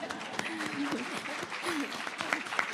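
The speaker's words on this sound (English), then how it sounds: "It's okay to clap." A seated audience at a morning community forum claps briefly for a speaker introduction, a light patter of hands under a talking voice.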